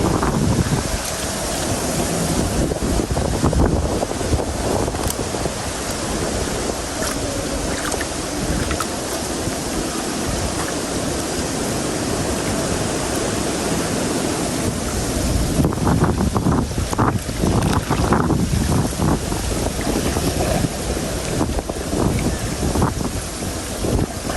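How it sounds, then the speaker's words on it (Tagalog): Strong wind roars and buffets the microphone continuously at a crab and vannamei shrimp pond, with a rushing, gusty texture and possible water noise underneath. "lakas ng hangin"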